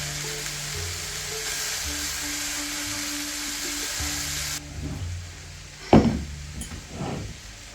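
A tablespoon of butter hits a hot pan holding browned bits and sizzles with a loud, steady hiss, which then drops away into softer crackling and a sharp clatter.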